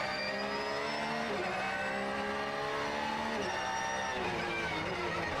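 GT race cars at a Beijing qualifying session braking and cornering on track, with a continuous engine whine that drops and climbs through gear changes, heard as a steady wash of car noise with possible faint tyre chatter.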